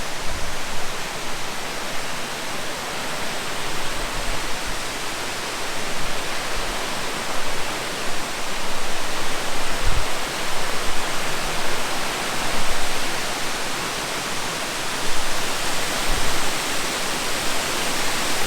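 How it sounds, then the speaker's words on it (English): A waterfall near the water's edge roars as a dense, continuous broadband rush, loud and close, steady throughout with slight swells and no voices. "That's a waterfall."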